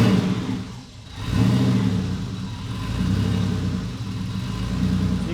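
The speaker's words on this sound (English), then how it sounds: "There, idle, the revs drop to about 600 and then they shoot back up." A car engine with a faulty idle, suspected idle control valve, runs lumpy: a steady mid-pitched idle dips in revs for a moment, then surges back up and holds a slightly uneven, pulsing drone, close and loud.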